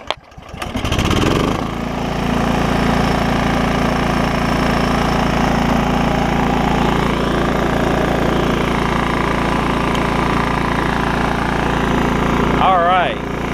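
A John Deere LX266 riding lawn mower engine cranks and catches, then runs at a steady loud idle up close. A brief voice cuts in near the end.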